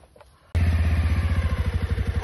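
A motorcycle engine starts abruptly and idles with a pulsing, throbbing rhythm close by as a woman tries riding the bike, loud and steady after a brief quiet lead-in.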